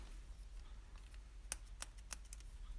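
Scissors trim cardstock during a cardmaking session, giving three or four crisp, quiet snips in a short burst with no talking.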